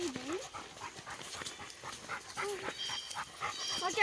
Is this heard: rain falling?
no